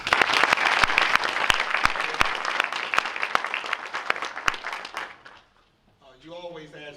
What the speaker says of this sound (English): Let's give a round of applause to the band.